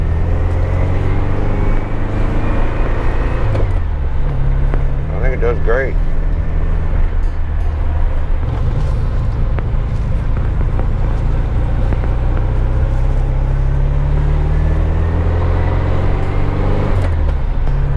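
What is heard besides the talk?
1974 VW Super Beetle engine running with a big 110 cam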